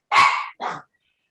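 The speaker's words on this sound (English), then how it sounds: "And I apologize for my dogs." Two sharp, loud dog barks close by in quick succession, the first longer than the second, followed by silence, from excited pet dogs indoors.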